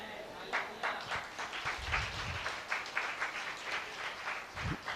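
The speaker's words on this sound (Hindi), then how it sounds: "अरे फुसकी ताली बजाते हो तुम लोग।" A church congregation at a Hindi sermon gives a faint, thin patter of scattered clapping that lasts a few seconds, with no voice over it.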